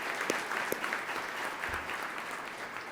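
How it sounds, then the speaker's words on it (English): Applause for a woman muralist who painted a large mural on the back of the Junto Hotel in Franklinton, steady crowd clapping at moderate level with a couple of sharper claps standing out, continuing throughout. "Yes, let's give her a round of applause."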